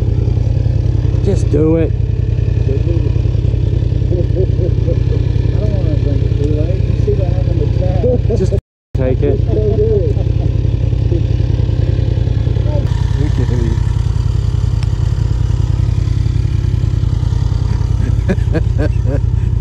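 A turbo Polaris RZR side-by-side idles loudly and close in a steady low rumble, with people talking and shouting over it throughout.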